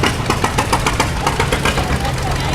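A two-cylinder tractor engine runs at a festival with a steady, loping beat and occasional pops, loud and close, with no speech over it.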